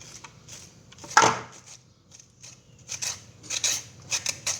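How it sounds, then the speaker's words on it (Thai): Cucumber flesh being scraped out with a tool for a northern Thai Lanna dish, sah bah taeng with pu paste: one loud scrape, then a run of short, repeated scratchy strokes, close and fairly quiet, with no talking. "ขูดเรื่อยๆนะครับขูดออกให้หมดเลย"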